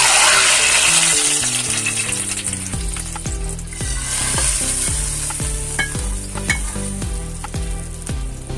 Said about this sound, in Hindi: मैं इसमें तड़का लगा रही हूँ।